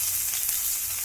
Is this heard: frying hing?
yes